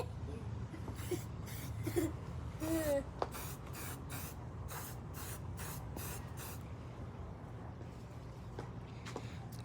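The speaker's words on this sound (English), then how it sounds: "I sprayed on my lenses." Motul Shine & Go cleaner is sprayed in a run of quick, short hissing bursts, about a dozen close puffs across the first seven seconds, with a faint voice in the background.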